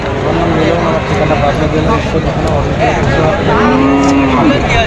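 Cattle low at an outdoor livestock market where bulls are sold, one drawn-out moo standing out near the end over steady crowd noise and people talking.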